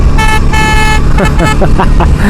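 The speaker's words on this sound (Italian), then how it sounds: "adesso mi sono accorto che ha il clacson di una macchina, giustamente, sentite?" A car-type horn on a BMW R 18 Bagger motorcycle, two loud sustained honks close by with a rider's voice talking over them at the end.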